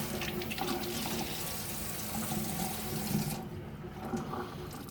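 Water is wrung from a soaked sponge for wet dust-free patch sanding, making a steady close splashing stream for about three seconds that then thins to lighter trickling.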